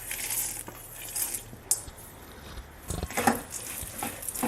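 Roasted peanuts stirred in a little hot oil in a pan, giving a soft, steady sizzle with scattered rattles and clinks of the nuts and a utensil against the pan.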